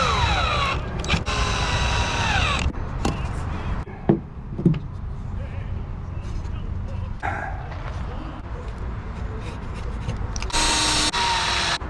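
Power driver sinking 1.5 inch deck screws into wood while building a butterfly house, with short bursts of whirring motor and knocks, the longest run near the end, over a steady background.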